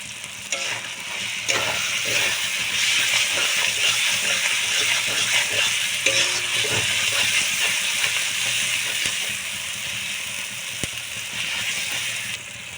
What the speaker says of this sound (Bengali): কষিয়ে নেবো আমি মশলাগুলো